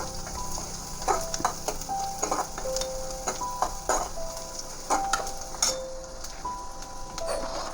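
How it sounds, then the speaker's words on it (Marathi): Ground ginger and garlic paste frying in a pan for a potato and green pea dry curry, with a steady low sizzle broken by repeated clinks and scrapes of a spoon stirring close by. "आपण त्याला फ्राय करून घेऊया"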